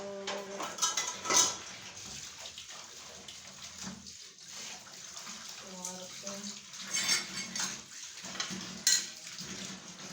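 Dishes, pots and cutlery being washed by hand, clattering and clinking repeatedly over running tap water, close by, with a voice speaking intermittently over the sounds.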